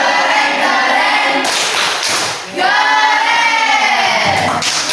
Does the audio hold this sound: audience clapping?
yes